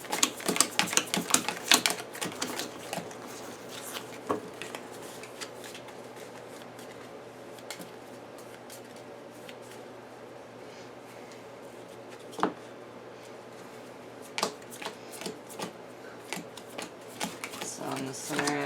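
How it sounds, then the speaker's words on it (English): Cards from the Pathfinder Adventure Card Game, Skull & Shackles, shuffled by hand on a tabletop, giving rapid papery riffles and flicks in bursts, loudest near the start and fading to scattered taps, with people talking quietly nearby. "Do this little shuffle."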